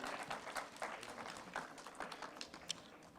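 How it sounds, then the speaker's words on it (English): An audience at an AI in agriculture panel discussion, GAISA 2025 in India, gives a round of applause: soft, distant patter of many hands with a few sharper claps standing out. "Let's give a big round of applause,"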